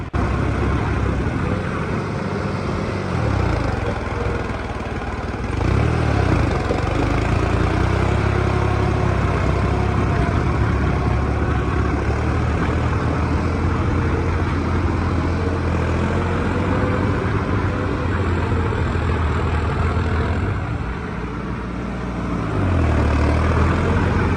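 A tractor engine runs at 2200 rpm while ploughing, giving a loud, dense, steady drone close by for the whole stretch, with slight dips in strength now and then and no speech.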